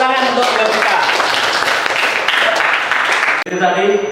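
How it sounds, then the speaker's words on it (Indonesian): Classroom applause for a student, a dense burst of clapping from a group of pupils, loud and close, with a teacher's voice speaking over it before it cuts off. "lebih tepat tepuk tangan untuk Yovita"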